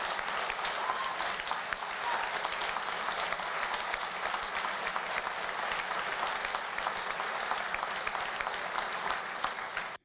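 Dense, sustained applause from a large audience holds at an even level for about ten seconds, then cuts off abruptly.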